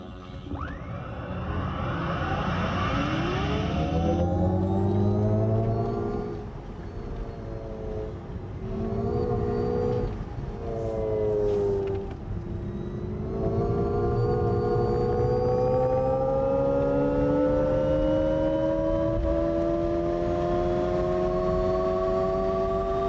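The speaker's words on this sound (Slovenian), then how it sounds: "Snovalci tega avtomobila so veliko poudarka namenili zvočni kulisi, ki spremlja vožnjo" Engineered driving sound from an Alpine electric car: a synthetic tone of layered, rising and falling pitches that sweeps up as the car accelerates, steady and prominent throughout with no talk.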